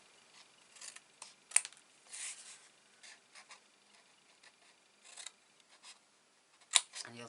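Scissors cut along the score line of a piece of cardstock for a desk calendar easel box, making a series of quiet, close snips and rustles with a couple of sharper clicks, no voices.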